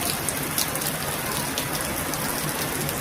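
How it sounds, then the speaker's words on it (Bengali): Heavy monsoon downpour in Chhattisgarh, the first rain in months, during a thunderstorm with lightning: a dense, steady hiss and patter of drops drumming on surfaces, loud and continuous without any pause. "দেখো বৃষ্টি হচ্ছে, দেখেছো কি আওয়াজ হচ্ছে বৃষ্টির, প্রচণ্ড আওয়াজ হচ্ছে বৃষ্টির।"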